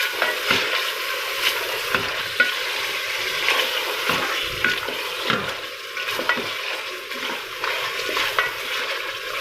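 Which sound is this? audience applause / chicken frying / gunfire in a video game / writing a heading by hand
chicken frying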